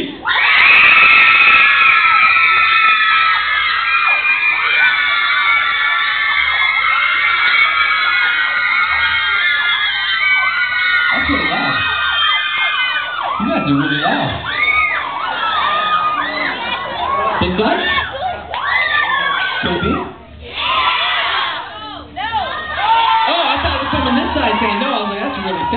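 A concert crowd screams in a screaming competition, loud sustained high-pitched shrieking that later breaks into ragged bursts of cheers and shouts, with some voices and laughter mixed in.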